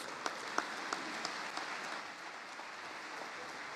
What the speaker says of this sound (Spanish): vamos a reiterarle nuevamente un fuerte aplauso a nuestro gran conferencista el día de hoy